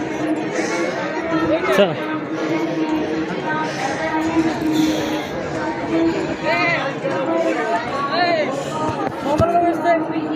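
Dense crowd chatter near a Hindu temple, a steady close babble of many voices with footsteps and someone talking over the hubbub.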